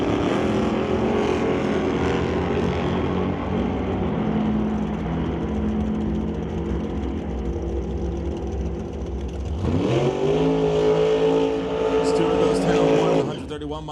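Two drag race cars, a '67 Nova against a Chevy 2 in a Super Pro bracket race, roar loudly and continuously at close range, with engine pitch climbing sharply near the end as they launch; an announcer talks over the engines.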